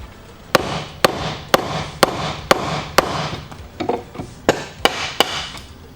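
Mallet strikes on a chisel breaking out wood in a timber-frame mortise, about ten sharp, evenly spaced cracks with a woody ring, close and loud, with a brief softer flurry midway.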